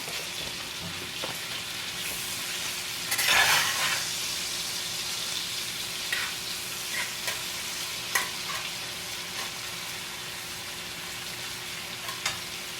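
Thinly sliced lamb heart sizzles steadily in a hot pan, with a louder burst of spitting when the pieces go in and scattered crackles and stirring afterward, close and without talk.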